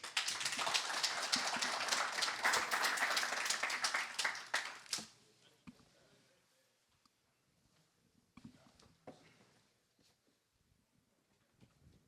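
Audience applause at a banana-industry talk on phytosanitary research institutes, a dense burst of many hands clapping for about five seconds that stops abruptly, followed by a quiet room with scattered faint sounds.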